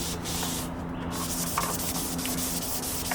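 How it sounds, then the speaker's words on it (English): Continuous rough scratching of sandpaper rubbed over a Honda Civic EK's clear coat, steady and close, with a low hum underneath. "So we're just giving it a good sand."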